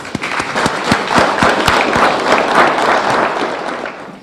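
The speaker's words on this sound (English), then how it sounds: "A round of applause, please." An indoor audience in Manchester applauds the Prime Minister of St. Kitts and Nevis, with a steady burst of many hands clapping that fades gradually.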